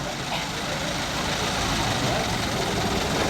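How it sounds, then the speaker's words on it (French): A 1935 Walker vintage car idles very quietly at the 2023 Dourdan vintage car festival, a low steady engine hum that stays even throughout against the busy outdoor crowd noise. "Moteur très silencieux, comme vous le soulignez."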